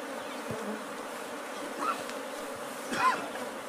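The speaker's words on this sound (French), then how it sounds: "ces villageois ont repéré un essaim d'abeilles à l'intérieur de ce baobab" A swarm of bees inside a baobab tree buzzes faintly in a low, steady drone, with a couple of louder passes as individual insects fly close.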